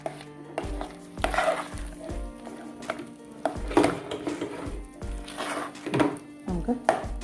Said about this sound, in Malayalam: നമ്മളുടെ അരി കൈ എടുക്കാതെ ഇളക്കണം കേട്ടോ